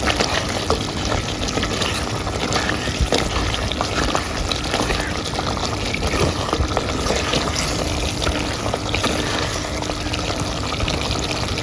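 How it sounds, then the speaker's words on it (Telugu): Continuous loud pouring and splashing of water into a pot of chicken curry, close and steady throughout, with no voices. "కొంచెం వాటర్ పోసేసేద్దామండి"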